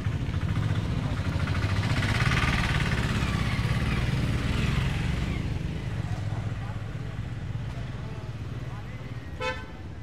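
A car engine runs steadily in the background, a low continuous rumble under nearby voices, with a brief horn toot toward the end.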